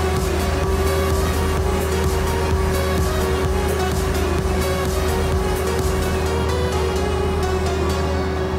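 An old truck engine idles steadily at about 1,000 RPM, a loud, even rumble with a constant tone and no speech over it.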